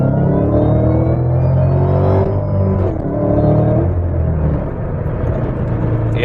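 A supercharged Shelby GT500 Mustang accelerates hard from a 40 mph roll in second gear, heard from inside the cabin as a loud, steady engine drone with rising whine and deep rumble, no talking.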